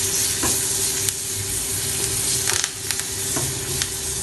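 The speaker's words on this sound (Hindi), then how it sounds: "मु ई छुंकटा को बटर रे करिबी।" Butter sizzles loudly in a pan as bay leaves fry for a dal tempering, a steady dense crackle and hiss with occasional brief stirring scrapes close by.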